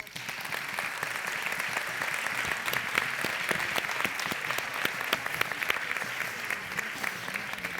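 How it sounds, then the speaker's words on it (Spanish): An audience at a traditional costume festival in Zamora, Spain, claps steadily throughout, a dense, lively patter of many hands with no pauses. "Un aplauso."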